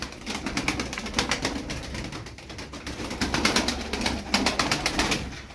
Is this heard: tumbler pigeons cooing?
yes